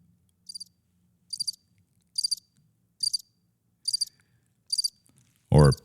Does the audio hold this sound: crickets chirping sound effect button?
yes